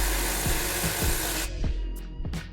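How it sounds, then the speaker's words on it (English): An air hammer fitted with a punch bit drives out a differential output shaft seal on an e90 BMW rear end, a loud continuous pneumatic chatter with dull impacts, then cutting off into a few softer knocks close by. "I'm just gonna use an air hammer that is only gonna punch on the center."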